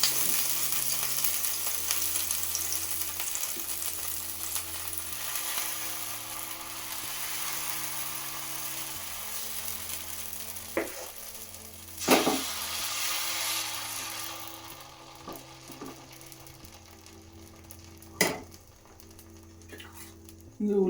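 Chopped onions, green chillies, ginger, curry leaves and cumin seeds fry on a dosa pan for a buttermilk dosa, sizzling loudly and continuously nearby, with sharp stirring and scraping clicks breaking through a few times.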